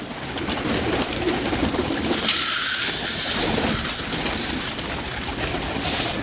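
Pigeons coo in a loft, giving repeated soft, throaty calls that sound close and fairly loud. A steady rushing background runs throughout.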